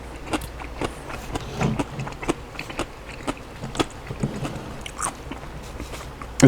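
Crisp, repeated crunches of fermented Korean kimchi being bitten and chewed up close, an irregular series of sharp snaps over a quiet background.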